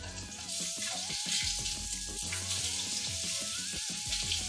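Fish fries in hot oil just after being turned over, a steady broadband sizzle and crackle running throughout at close range, with faint tonal sounds above it.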